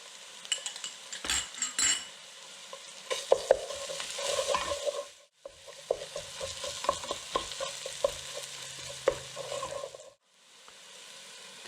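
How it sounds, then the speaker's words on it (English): Garlic and tomato paste sizzle in a pot for Senegalese thieboudienne while a utensil stirs and scrapes against the metal, giving irregular clinks and scraping bursts over steady frying, with two brief pauses. "Cook the garlic for about 30 seconds. We're going to add some tomato paste."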